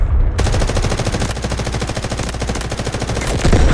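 Rapid automatic gunfire spraying bullets in the video game Delta Force, a dense, continuous stream of close, loud shots lasting nearly the whole stretch with no talking.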